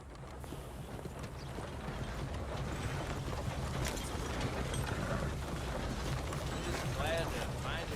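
A horse ridden in the game Red Dead Redemption 2 keeps up a steady, continuous clip-clop of hooves, with creaking tack and mechanical ticking running underneath.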